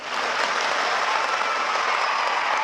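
An audience at a Marathi motivational talk breaks into sustained applause, a dense, even roar of many hands clapping that holds steady and loud from start to finish without any voice over it.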